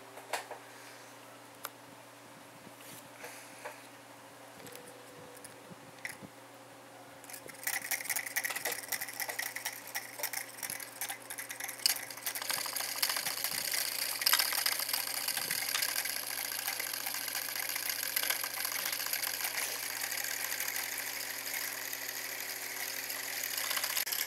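Three small battery-powered electric motors wired in parallel whir with a steady buzzing hum, quiet at first with scattered clicks, then louder and fuller as more motors join in.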